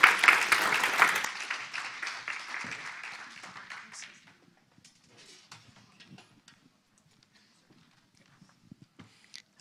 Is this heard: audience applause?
yes